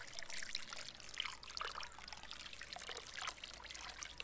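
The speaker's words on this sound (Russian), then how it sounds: "И заливаем все это дело кипятком." Boiling water is poured over lamb in a pan for oven cooking, giving a faint, continuous trickling and splashing stream.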